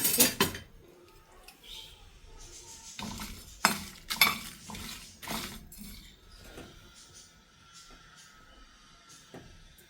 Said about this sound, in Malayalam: വറുത്ത് നന്നായി വറുത്ത് പൊടിച്ചെടുക്കാം.